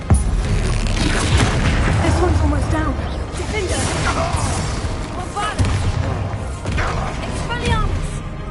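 Bombarda exploding spells in Hogwarts Legacy, with repeated booming blasts and crashes in a busy battle mix, under game voices.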